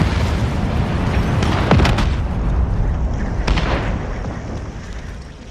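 Explosion in the Warzone video game, a loud boom with a sharp burst near the start of a dense, roaring game soundscape, followed by a second blast and a sustained rumble.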